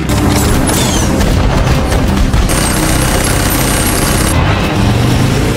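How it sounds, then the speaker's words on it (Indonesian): Loud, continuous gunfire in an action film shootout, dense bursts and booming shots packed together across the whole stretch with no pauses. "Dan momen tembak-tembak dor-dor pun terjadi."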